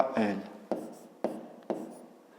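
Pen or chalk writing out a fifth-grade geometry condition, heard as four quick scratchy strokes in a row, close and distinct, each fading before the next.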